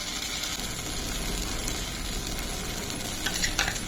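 Chicken roll filling with a spoonful of tomato sauce added, sizzling and hissing steadily in a pan at close range, with a few louder bursts of sputtering toward the end.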